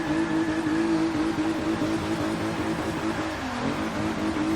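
Turbocharged VR6 engine in a front-wheel-drive MK3 VW Golf pulling hard under acceleration, a loud steady drone with a rising tone that dips briefly near the end, close and continuous with no talking.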